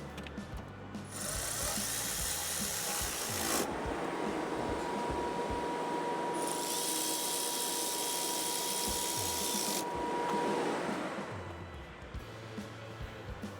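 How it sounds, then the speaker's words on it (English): Socket ratchet or power driver running bolts back in on a Kubota L2501 compact tractor during a 50-hour service, a steady close mechanical whir in two long bursts with a brief pause between, no talk. "we're gonna grab our 12 sockets, reinstall them"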